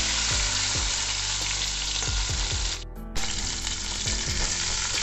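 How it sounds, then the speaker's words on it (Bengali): Cauliflower pieces fry in hot oil, giving a loud, steady sizzle close up with a few stirring scrapes and one short pause. "ফুলকপিগুলো কিছুক্ষণ আমি ভেজে নেওয়ার পর গাজরগুলো এর মধ্যে আমি দিয়ে দেবো।"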